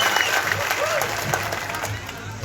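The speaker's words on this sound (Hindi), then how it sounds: "उनके लिए ताली बजा के स्वागत करिए" An audience claps to welcome a longtime BJP worker at a political rally, a moderate burst of applause that continues steadily, with some voices mixed in.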